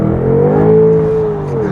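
A BMW engine, an M6 Gran Coupe or M850i xDrive, revs in a steady, loud drone that rises and holds, then drops slightly near the end, a late manual gear change in a moving car.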